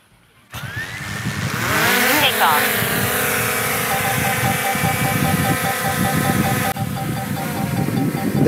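After a moment of quiet, a drone's motors spin up with a rising whine that settles into a loud, steady buzzing hum as it lifts off and climbs outdoors, with wind noise rustling underneath.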